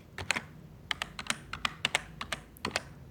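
A spreadsheet formula typed on a computer keyboard, a run of close, sharp key clicks in irregular bursts over a faint background hum, with no speech.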